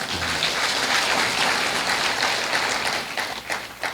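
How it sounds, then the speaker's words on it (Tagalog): A church congregation claps together in a dense, sustained burst of applause that stays loud for several seconds and then thins into scattered claps, with no one speaking over it. "O, pwede kang pumalakpak sa Panginoon."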